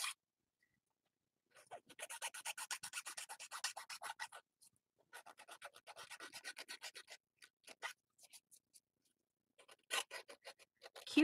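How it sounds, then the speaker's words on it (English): Uneven cut wood on a small handmade table is sanded by hand in short rhythmic back-and-forth strokes, a dry close rasping in bursts separated by pauses, with no talking. "I could just easily sand that down."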